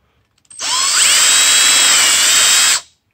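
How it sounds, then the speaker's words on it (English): A power drill with a 5/32 bit whirs steadily for about two seconds while enlarging a power steering pump orifice, starting with a quick rising pitch and cutting off abruptly, close and loud. "We're going to get a 5/32 drill bit."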